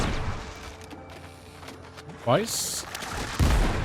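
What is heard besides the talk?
gunfire shooting at a boss in the video game Windrose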